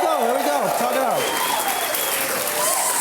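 A team applauding and cheering in the background on a big day, steady dense clapping throughout with voices talking over it.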